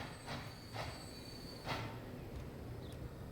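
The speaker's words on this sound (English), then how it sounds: "Here comes that train, so that's fine." Train pulling in during Transport Fever 2 gameplay, a steady low rumble of wheels and carriages with a few brief squealing screeches on top, continuous and moderately quiet, no voices.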